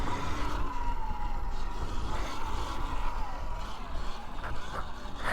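Sur Ron electric dirt bike popping a wheelie outdoors: a thin motor whine that rises and falls sits within steady wind and road rush that lasts the whole stretch.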